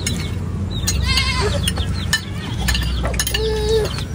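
A couple of nearby goat bleats, one short and one longer and quavering, over a constant low hum.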